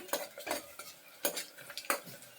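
Whole spices, including cinnamon, cloves, cardamom and pepper, fry in a pan for egg biryani while a metal spoon stirs and scrapes, giving several distinct clinks over a faint sizzle, close and with no voices.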